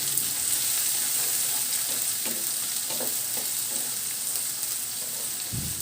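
Over a cup of chopped onion frying with whole garam masala spices in a pan for broiler chicken bhuna: a steady, loud oil sizzle throughout, with occasional scraping stirs and soft clicks of a utensil.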